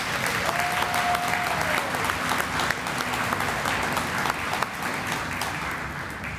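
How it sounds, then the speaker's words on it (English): A room full of people at a mayor's reception and volunteer awards ceremony claps for staff, sustained even applause throughout at moderate volume, with a faint tone briefly audible beneath the crowd. "So again, let's do a round of applause for them."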